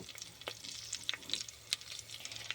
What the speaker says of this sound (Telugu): ఒక కుక్కర్లో 2 స్పూన్స్ ఆయిల్ వేసేసుకుని కచ్చాపచ్చాగా దంచుకున్న వెల్లుల్లి రబ్బలు 4-5, కరివేపాకు, ఆవాలు, జీలకర్ర, 2 పచ్చిమిర్చి వేసేసుకుందాం